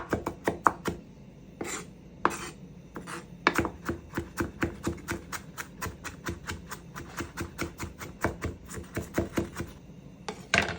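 A knife chopping scallion on a cutting board, rapid steady thunks repeating close up in quick rhythmic runs with short pauses, no talking.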